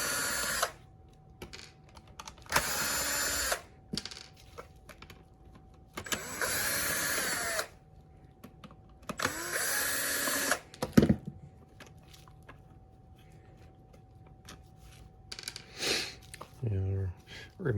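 Power drill backing out the side screws of an 8-channel dimmer pack, in four loud whirring bursts separated by quiet handling clicks and clatter, followed by a brief rattle near the end.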